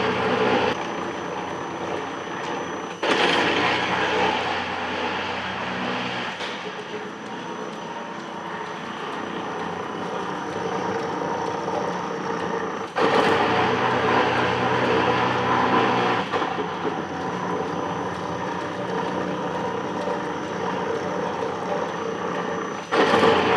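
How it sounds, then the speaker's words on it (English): A metal planer takes a long planing cut across steam stoker engine crosshead guides, a steady broadband machine roar with two abrupt surges as the stroke reverses, loud and continuous with no talking. "I'm gonna let this plane all the way across, and we'll come back and make another pass."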